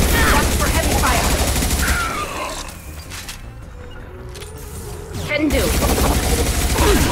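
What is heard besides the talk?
heavy gunfire in the video game Mass Effect 2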